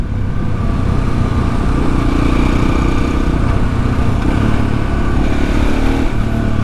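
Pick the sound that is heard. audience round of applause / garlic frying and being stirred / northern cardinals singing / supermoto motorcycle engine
supermoto motorcycle engine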